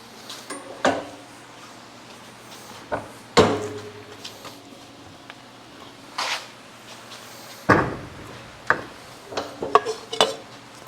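A KAKA Industrial W4812 box pan brake bends thick 1/8 inch, 11 gauge sheet steel into a box pan, giving a series of sharp metallic clanks and thuds at irregular intervals, close and fairly loud, with no talking.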